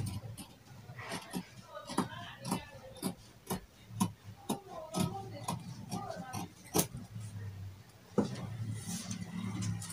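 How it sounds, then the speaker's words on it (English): Scissors snipping through fabric while cutting out the back neck of a Danshiki dress, a quick run of crisp close clicks with a voice talking over them. "I'll first of all cut out the back neck."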